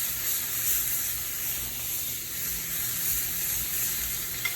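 Wagyu beef with butter and a spice rub sizzles outdoors in a steady, close hiss of frying fat, gently rising and falling with a soft low rumble beneath and a small tap near the end.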